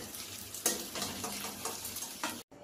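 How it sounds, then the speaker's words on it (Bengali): Egg bhapa pieces fry in hot oil over a medium gas flame, giving a steady close sizzle with soft crackles and a few stirring or scraping sounds, ending abruptly. "ডিমের ভাপা যে পিসগুলো ছিল সেগুলো এইরকমভাবে ফ্রাই করে নেব আমরা।"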